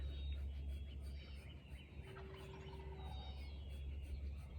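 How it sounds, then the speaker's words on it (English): Turkeys gobble faintly in the background of a quiet outdoor space, a couple of short distant calls over a low steady hum, with no one speaking. "I hope you can hear the turkeys in the background."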